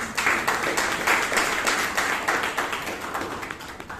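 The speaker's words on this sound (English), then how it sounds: "So a round of applause once again for this." Audience at a Bangalore Toastmasters club meeting applauding, a dense crowd of hand claps with sharp individual slaps, steady and loud throughout, without voices.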